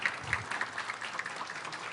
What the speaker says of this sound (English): Let's give Blackfeet Nation a big round of applause.